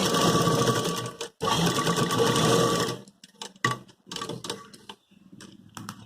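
A sewing machine stitching a suit with a readymade collar, whirring loudly and steadily in long runs, then breaking into shorter stop-start bursts of stitching.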